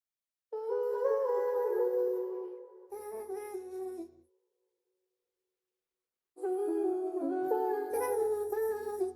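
Chopped R&B vocal samples with reverb, stacked harmonic voices playing a sung phrase for about four seconds, dropping out to silence, then returning with a fuller layered chop and a low bass note underneath.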